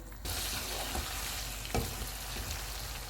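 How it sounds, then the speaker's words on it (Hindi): Minced meat keema frying on a full flame for keema karahi, a continuous close sizzle broken by a couple of spatula knocks and stirring scrapes. "चूल्हे को फुल कर देते हैं और ऑयल अलग होने तक कीमे को भूनेंगे।"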